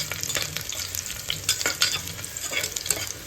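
Crushed garlic and fennel seeds sizzle in hot oil in a pan, a close, crackling fry broken by quick scraping stirs.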